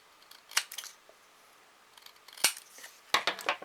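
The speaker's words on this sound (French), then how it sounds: "je vais découper deux petits bouts de papier là," Scissors snip two small pieces of paper for a paper doll display, giving a few sharp, close cuts spread over a few seconds with quiet pauses between them.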